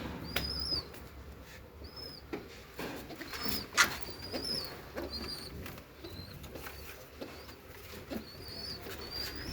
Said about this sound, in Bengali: আমরা কবুতর বন্দি রেখে পালি,